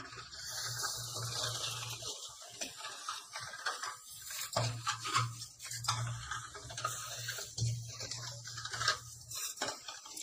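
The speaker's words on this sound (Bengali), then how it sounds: "প্রথমে আমি চামচ দিয়েই এভাবে গুলিয়ে নিব, তারপর আমি হাত দিয়ে ভালো করে মেখে নেব।" A spoon scrapes and clinks against a bowl while milk and semolina are mixed, giving soft irregular ticking and tapping strokes at close range, later joined by squelchy hand kneading.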